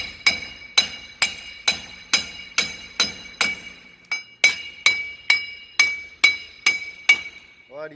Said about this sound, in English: you'll see after a whole bunch of whacks and messing up and hitting your heat shield a couple